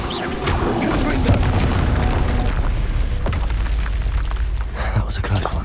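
Loud, continuous booming blasts and crashing debris from a Confringo blasting spell in the game Hogwarts Legacy, dense and close with rumbling low end throughout.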